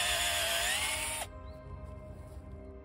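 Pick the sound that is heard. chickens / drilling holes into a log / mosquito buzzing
drilling holes into a log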